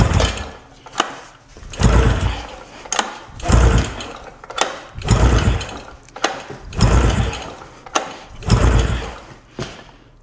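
Repeated pull-starting of a fire-damaged three-cylinder snowmobile engine: a series of loud rhythmic rasping pulls roughly every one to one and a half seconds, each a sputtering mechanical burst with sharp clicks between them, no speech.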